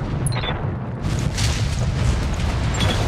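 Mech weapons fire and explosions in the Battletech video game form a loud, continuous rumbling roar of blasts and booms that swells after a brief lull.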